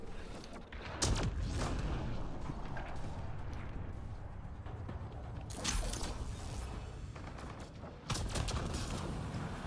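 Rapid bursts of video game gunfire firing incendiary ammo, loud and dense with sharp cracks and booms that come in waves, a few heavier volleys standing out.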